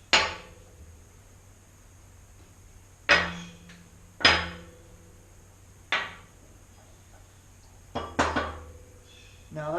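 A ball punch is hammered on sleigh bell metal during hand forging, giving sharp metallic ringing strikes spaced a second or two apart, about seven blows including a quick double hit, each decaying into a short ring.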